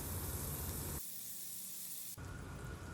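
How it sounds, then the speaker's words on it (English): Marinated paneer sizzling in a hot grill pan over a medium flame, a loud, steady broadband hiss with a brief quieter stretch midway before the full sizzle returns. "when the pan is hot enough, we will place the marinated cottage cheese or paneer into the grill pan"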